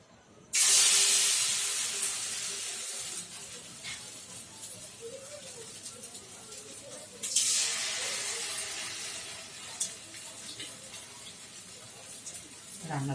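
Eggs dropped into hot oil for chilli egg, a sudden loud sizzle that fades, then flares again as more go in, crackling steadily throughout.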